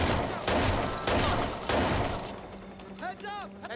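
Shotgun fire in the Watch Dogs 2 video game: several loud, booming blasts close together in the first half, then quieter, with a voice speaking at the end.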